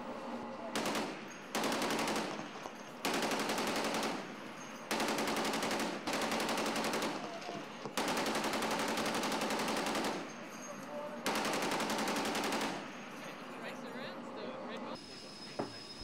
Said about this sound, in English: Sailors at action stations clad in bulletproof vest fired rounds from .50 and .40 caliber guns.